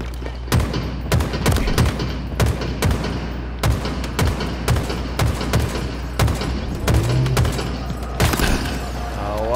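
Rapid video game gunfire from a gun that handles poorly, a steady string of sharp close shots fired in quick bursts throughout, with a brief whirring sound near the end.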